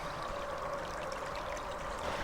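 Water flows steadily down a hill in a continuous rushing, gurgling stream, close and constant with no talk over it.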